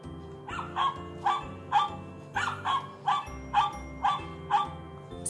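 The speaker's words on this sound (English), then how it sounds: "Woof." A dog gives a rapid, rhythmic run of about nine short, sharp barks, close by and unaccompanied, with brief gaps between them.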